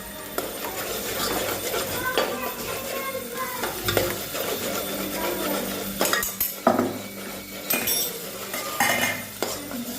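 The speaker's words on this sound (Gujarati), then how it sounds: "હવે નાખવાનું છે થોડુંક દહીં" Yogurt is stirred into spinach gravy in a sizzling pan, a spoon scraping and clinking against the metal steadily over a soft frying hiss, with no voices.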